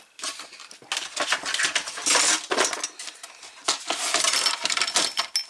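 A paper guillotine cutter slicing through card, heard as a close, loud run of crunching, scraping and clattering bursts with short gaps, alone without talk.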